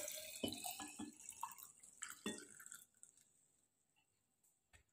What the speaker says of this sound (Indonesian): Kemudian kita tambahkan air.